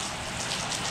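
Steady rain falling and pattering on surfaces outdoors during a motorcycle trip from Alaska, a dense even hiss throughout with no voices.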